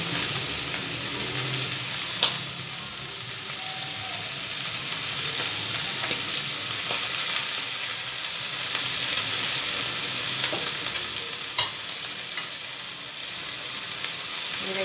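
Tikka boti meat frying in butter in a pan, giving a steady broadband sizzle and hiss with occasional sharp pops and crackles, close and continuous with no voices.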